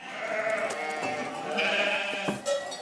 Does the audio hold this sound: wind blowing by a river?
no